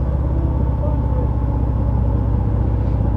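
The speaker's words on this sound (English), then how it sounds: "it still gives you that positive feeling of a deep throaty rumble, and you can really feel the engine making its noise" A 2023 Harley-Davidson Fat Bob 114 motorcycle engine gives a steady, deep, throaty rumble with strong low pulsing, heard up close throughout while riding.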